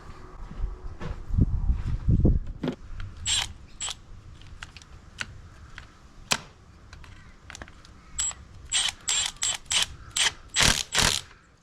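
Impact gun driving a 10mm bolt while fitting a starter motor on a 200 series Toyota Land Cruiser, heard close up as a string of short mechanical bursts and rattling clicks, quickening toward the end, with no talking.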